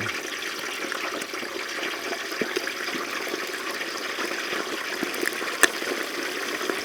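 A turkey being lowered into a deep fryer: continuous crackling and bubbling hiss of hot frying oil, with a few sharper pops and ticks scattered throughout.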